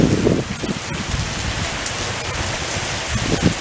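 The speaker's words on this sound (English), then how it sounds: "here's the early onset of the tropical storm" Heavy rain from the early onset of a tropical storm pours down in a dense, continuous hiss with pattering drops striking nearby surfaces, no voices.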